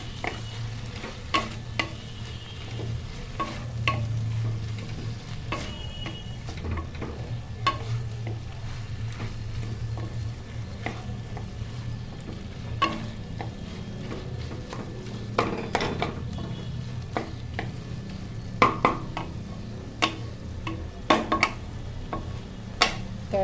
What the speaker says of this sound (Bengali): ভাজা মশলা মিশিয়ে দিলাম